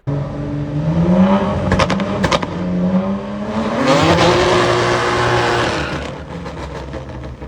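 Tire-spinning burnout from a G80 car at a drag strip, a loud sustained engine roar with rising revs and harsh screeching, staying strong before easing off near the end.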